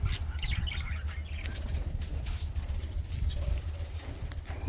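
Wings flutter and rustle in bursts amid faint chirps from several caged birds close by, over a constant low rumble, with no talking.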